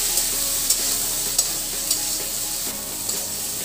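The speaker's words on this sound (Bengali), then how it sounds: "ভালো করে মশলাটা আমি কষিয়ে নেব" Ground cumin, chilli powder and ginger paste sautéing in a pan for Bengali vegetarian cabbage curry, a bright close sizzle punctuated by regular spoon taps and scrapes roughly every half second.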